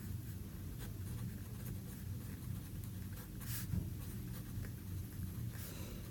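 A pen scratches steadily across paper during a math lesson on percent change, faint and continuous with a few slightly louder strokes and no talking.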